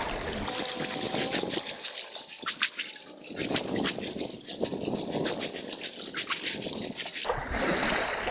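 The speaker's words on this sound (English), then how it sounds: "And then you wash off your feet, and then you put them in." Water is splashed over feet beside an inflatable kayak, making close trickling and dribbling sounds with intermittent splashes and drips over a steady outdoor background.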